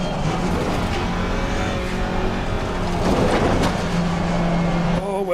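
A race car engine in Assetto Corsa Competizione revs hard and close, its pitch rising and dropping through the downshifts as a continuous roar.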